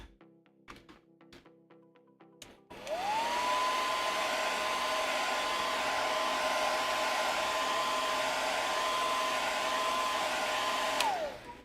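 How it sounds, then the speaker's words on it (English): After a few taps and thunks on a puppet workshop bench, a hair dryer switches on and blows steadily on glue for several seconds, a loud, even whirring hiss with a constant whine before it clicks off. "hit it with a hairdryer for a few seconds"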